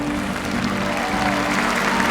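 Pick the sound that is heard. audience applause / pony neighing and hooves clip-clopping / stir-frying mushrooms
audience applause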